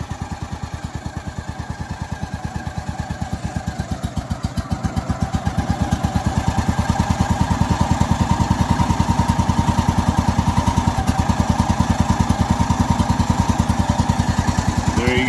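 A gas engine on a Woodland Mills HM130max sawmill runs outdoors at 18 degrees, a close, loud, rapid steady chug that builds slightly in revs partway through and keeps going with no one talking.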